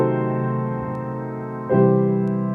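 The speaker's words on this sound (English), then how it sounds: "a common tone fully diminished 7 chord" A sustained piano chord rings, then a common-tone fully diminished seventh chord enters partway through with a fresh attack and lets its tones hang and slowly fade.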